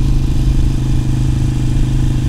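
A Harley-Davidson Iron 883 motorcycle rides along at about 35 mph, its loud, steady low engine rumble and pulsing exhaust filling the moment without voices.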